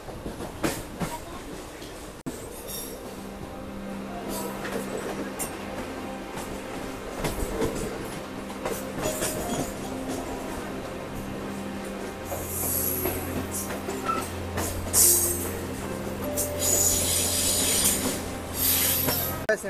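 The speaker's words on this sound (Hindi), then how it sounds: "ज़्यादातर गुजरात, न्यू दिल्ली, इधर इंदौर, इधर से के लिए ज़्यादातर ट्रेन निकलती है" Trains at Mumbai Central railway station rumble steadily nearby, with a low engine drone, wheel rattle and bright metallic squeals rising toward the end, set in a busy station ambience.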